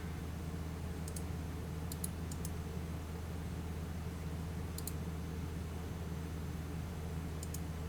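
Sparse, faint clicks of a computer mouse during GIMP image editing, a handful of sharp ticks spaced irregularly over a steady low hum, with no talk.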